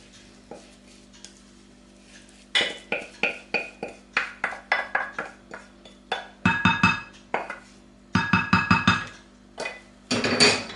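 Poppy seeds for makowiec being mixed in a bowl, with repeated rhythmic scraping and clinking of a utensil against the bowl in quick bursts and short pauses, close and fairly quiet.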